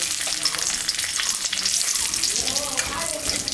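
Hot mustard oil sizzles loudly in a kadai as cumin, dried red chillies, a spice tempering and bay leaves crackle and spit, a dense continuous hiss close to the pan with a faint stir and no voices.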